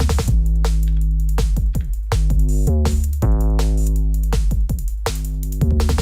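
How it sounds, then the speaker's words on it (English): Deep, booming 808 bass notes from an Elektron Analog Rytm MK drum machine hit in a repeating pattern, each with a sharp attack and pitch-sliding tail, loud and sustained with no other sounds. "Just making these really big 808 bass lines."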